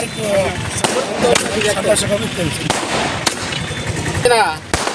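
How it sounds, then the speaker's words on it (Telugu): A string of firecracker bangs goes off during a TDP fans' victory celebration in Toopran, Telangana, with about five sharp, loud cracks at uneven intervals over constant crowd chatter and shouting. "చంద్రబాబు ముఖ్యమంత్రి రాబోతున్న సందర్భంలో పంపిణీ చేసి పట్టణ బాణసంచాలు"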